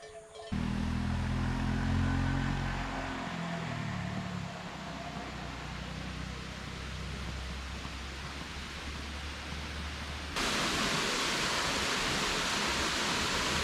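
Pam Bok waterfall in Pai, Thailand, about 150 m high, gives a steady broad rushing roar. A low engine rumble fades early on, and the water noise grows louder near the end.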